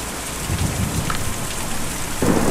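Steady rain falls in the Kentucky Route 0 video game, a dense hiss of drops with a low rumbling swell near the end, loud and continuous with no voices.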